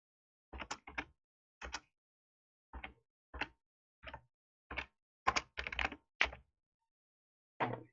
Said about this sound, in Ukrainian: ми пишемо його і сюди